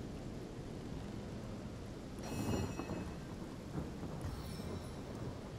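Rain and thunder conjured by a spell in the Divinity: Original Sin video game: a steady, dense hiss of falling rain with a rumbling thunderclap swelling midway and a fainter crackle later, with no voices.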